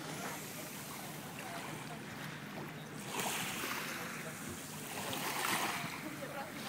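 Sea waves wash steadily near a seaside restaurant on the coast around Perast, Kotor and Budva, with broadband surf swelling louder at moments, accompanied by wind and faint background voices.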